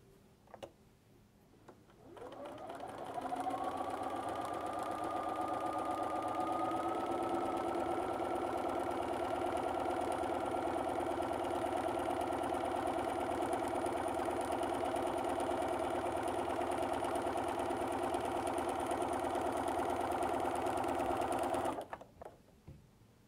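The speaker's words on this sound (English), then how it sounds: "stitching with your walking foot from one end to the other" A sewing machine with a walking foot runs a long, steady stitching pass on a quilt line, the motor hum starting up, holding an even pitch for about twenty seconds, then stopping abruptly; close and clear with no talk.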